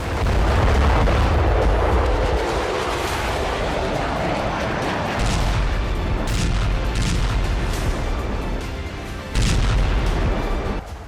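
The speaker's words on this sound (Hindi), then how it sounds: "कीव पर रूस ने किंजल मिसाइलों से हमला किया" Deep, rumbling booms of Russian Kinzhal missile strikes hitting Kyiv, a loud sustained roar broken by several heavier blasts and surges, with no voices.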